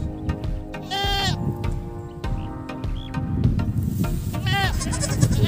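Several loud, wavering bleats from a resting goat ring out over a busy farmyard background, with other goats bleating nearby.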